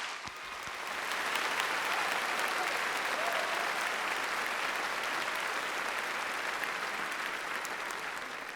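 A graduation audience at a high school ceremony applauds in a sustained, dense wash of clapping that swells after a brief start and holds steady, with no talk over it.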